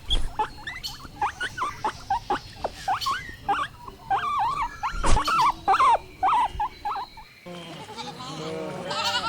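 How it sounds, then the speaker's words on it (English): A guinea pig gives a run of high squeaks and chirps, close and fairly loud, in short repeated bursts with a few longer whistling calls. "guinea pig"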